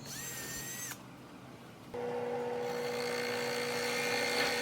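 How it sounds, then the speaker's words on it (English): A power drill whines at high pitch drilling pivot holes in wood, stops briefly, then starts again with a steady, lower-pitched whir that continues to the end. "After drilling out those pivot holes to the proper thickness"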